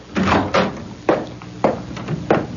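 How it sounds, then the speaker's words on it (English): In a radio drama, a door opens with a series of wooden thunks, knocks and latch sounds spread over a couple of seconds, fairly close and loud, with no voices. "Open the door, Menashe."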